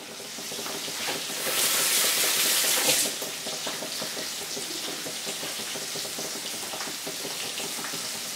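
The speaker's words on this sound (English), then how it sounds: "the other curry is bubbling away nicely" A pot of mild madras curry simmers on the stove, steady hissing and bubbling with a brief louder surge of sizzling partway through, no voices.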